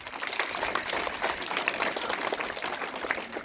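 An audience at a school Teachers' Day gathering applauds steadily to welcome the poet Kamran Khan to the stage. The dense, even clapping lasts several seconds with no voices.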